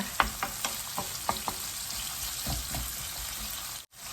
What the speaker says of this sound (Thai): ทำให้ไข่สุกนิดนึงนะคะ